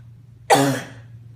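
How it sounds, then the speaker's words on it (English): A person gives a single short, sharp cough with a throat-clearing rasp, close and clear against a quiet room hum. "If you need to take a second and cough, do your thing."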